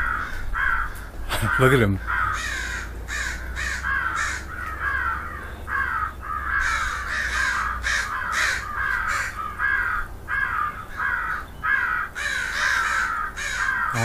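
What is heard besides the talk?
crows cawing, attracted by Primos Turbo Dogg crow caller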